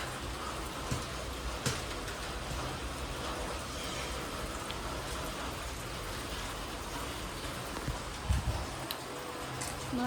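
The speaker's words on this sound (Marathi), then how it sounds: "त्या पाऊस पण चालू झालेला आहे" Steady rain hisses evenly throughout, with occasional soft drips and taps standing out against the constant wash.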